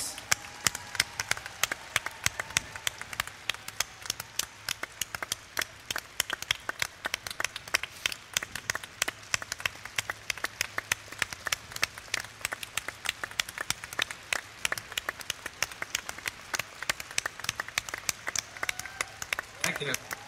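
Audience at a Robert Kiyosaki talk clapping in a sharp, rapid patter of many hands that runs without a break, with voices talking over it.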